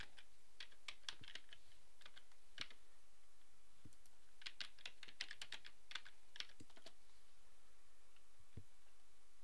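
Quiet keystrokes on a computer keyboard as a user name and password are entered, irregular clusters of soft clicks with short pauses between them and no talking.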